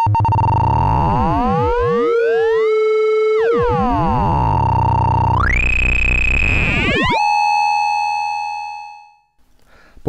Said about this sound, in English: So standard sort of FM sounds coming from the modulation LFO.